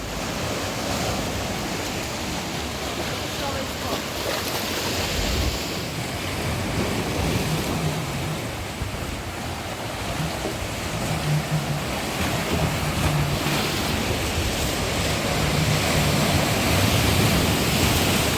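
Sea surf rolling onto Mogren beach in Budva, Montenegro: a continuous broadband wash of breaking waves with wind buffeting the microphone, swelling slightly louder toward the end, no voices.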